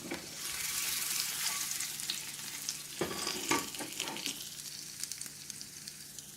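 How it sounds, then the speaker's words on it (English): A clove of garlic sizzles in a pan as a sauce is started, giving a bright, steady frying hiss, with a few sharp stirring clicks and scrapes near the middle and end, no voices. "we're going to go in with a clove of garlic. And let that go for about 45 seconds or so."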